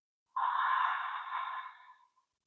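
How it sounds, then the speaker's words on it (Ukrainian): A slow, calm exhale through the mouth with a relaxed jaw during a breathing exercise for stress relief: one steady, soft breath lasting about two seconds, close and alone, tapering gently at the end. "І тепер плавний, спокійний видих через рот, щелепа розслаблена."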